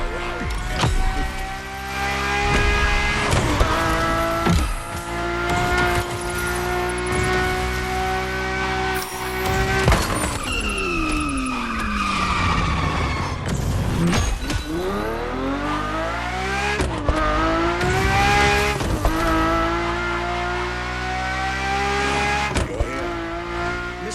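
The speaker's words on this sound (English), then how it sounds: "the Ferrari F50." Ferrari F50 driven in The Crew Motorfest racing game: a loud, sustained engine note that climbs and drops through gear changes, with a sharp downshift and re-acceleration midway and occasional tire squeal.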